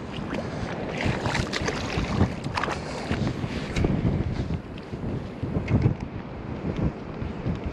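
Strong wind buffeting the shore during low-tide lure fishing on the Great Barrier Reef, a continuous roaring rumble with gusty surges battering the microphone, no voices.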